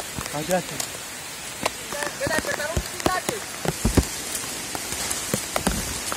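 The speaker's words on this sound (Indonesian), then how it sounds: "Tapi kali ini hujan yang sangat deras sekali." Heavy rain pours down on an outdoor path, a dense steady hiss with sharp drops and splashes pattering on nearby surfaces, close and loud throughout.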